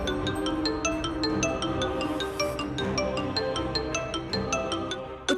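A mobile phone ringtone plays at moderate volume, a repeating melodic chime pattern of bright tones that rings steadily through the whole stretch without speech.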